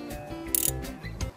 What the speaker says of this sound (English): You can use spark plug socket or wrench to remove these spark plugs.